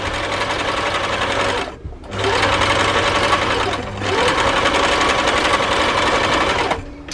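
A sewing machine stitches quilt fabric onto batting, whirring steadily in three long bursts separated by brief pauses, close and clear with no talk.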